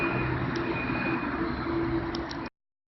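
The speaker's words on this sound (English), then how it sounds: "I think it's a police helicopter." Police helicopter flying overhead with a black-and-white hood, a steady broadband rotor and engine roar that stays loud and even for about two and a half seconds, then cuts off.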